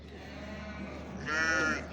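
A single sheep bleats nearby at a small-livestock market, a wavering nasal cry near the end over a low background hum.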